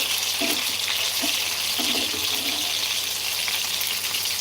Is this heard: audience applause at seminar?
no